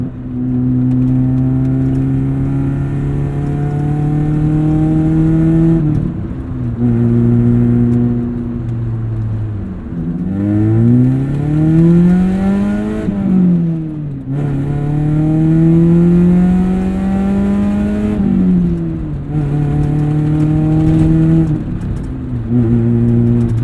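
A 1996 Saturn SC2 engine, heard from inside the car, revs up repeatedly through the gears, its pitch climbing and dropping with each shift in a loud, steady drone with no talking.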